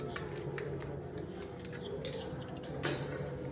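Metal spoons are handed over with a couple of light, brief clinks, near and fairly faint, over a low room hum.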